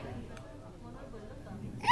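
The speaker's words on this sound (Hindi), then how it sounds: "शबरी को हिचकी आ रही है" A woman hiccups in a Hindi-dubbed comedy film scene, a faint short catch in the throat over a soft room hum, followed by a sharper sound at the end.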